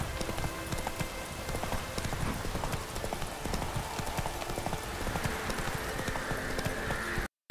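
Roach the horse gallops in The Witcher 3 with a continuous, rapid clip-clop of hooves. A dense, steady game soundscape runs underneath the hoofbeats.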